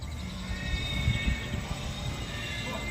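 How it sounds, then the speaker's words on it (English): A small train passing through a forest at Moody Gardens in Galveston, Texas, a steady low rumble with faint clacks and a high whine, moderately close and continuous. "Look at this little train coming through the forest here."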